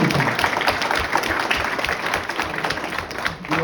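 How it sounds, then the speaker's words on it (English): A crowd claps steadily at a live event for about three and a half seconds, a dense, even wash of many hands that holds at a fairly loud level throughout. "Clap it up for that."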